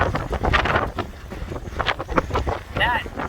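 Hurricane-force wind from Hurricane Ian buffets a boat riding out the storm, roaring in heavy gusts and rumbling against the microphone throughout.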